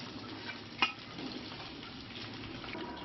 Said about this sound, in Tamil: மசாலாவில் ஊற வச்ச சிக்கன், மொறுமொறுன்னு வந்த பிறகு எடுத்துக்கணும்.